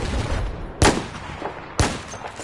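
Two sharp, loud gunshots in the video game Battlefield 4, about a second apart, each a crisp crack with a short decaying tail over low background game noise.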